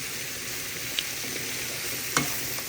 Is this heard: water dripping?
no